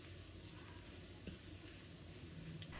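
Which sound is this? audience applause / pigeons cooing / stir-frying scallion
stir-frying scallion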